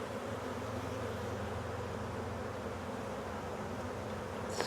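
Honey bees buzz steadily and fairly close while a nuc is being installed in a hive, a soft continuous drone with no talking.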